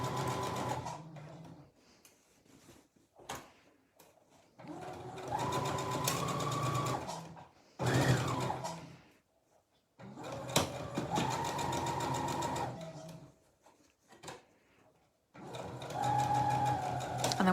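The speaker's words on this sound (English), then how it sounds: "I'm just going to do a few stitches over, and then 3 reverse and 3 backwards." A sewing machine stitches fabric for a door stop in close, steady bursts of rapid mechanical whirring, several runs separated by short pauses, with a brief reverse section in between.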